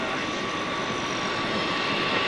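A steady, loud airplane engine drone holds evenly throughout, close and continuous with a faint whining tone, with no voices.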